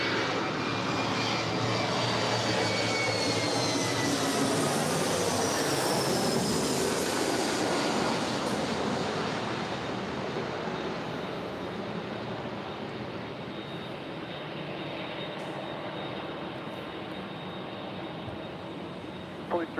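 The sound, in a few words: airplane arriving on runway 24 left at LAX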